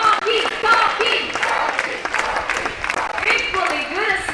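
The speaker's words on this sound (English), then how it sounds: "clap your hands and shout his name" Audience clapping and shouting in support of Cocky the scarlet macaw at a bird show in Jurong Bird Park, Singapore; dense, steady applause with cheering voices mixed throughout, fairly loud and continuous.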